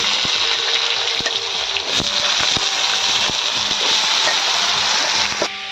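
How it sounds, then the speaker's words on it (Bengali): Potatoes dropped into hot oil already seasoned with cumin seeds, bay leaves and asafoetida in a Bengali home kitchen, giving a loud, steady sizzle and hiss with scattered crackles and pops from start to end. "এরপর এর মধ্যে আলুগুলো দিয়ে দিচ্ছি ভাজার জন্য"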